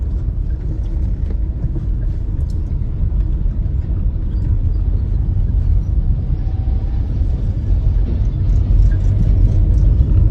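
A car drives slowly along a potholed, badly damaged stretch of national highway NH 26 in Odisha, India, a loud, continuous low rumble of tyres and engine with no talk.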